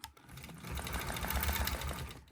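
A Gammill longarm quilting machine stitches a table runner with a steady, close mechanical whir that runs continuously throughout, with no voices.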